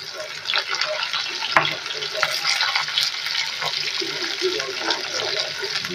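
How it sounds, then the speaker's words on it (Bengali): Potato pieces frying in oil in a pan, a loud continuous close sizzle with crackles and a sharp clatter partway through, with a voice faintly in the background. "আলুগুলো লাল করে ভাজা হয়ে গেছে"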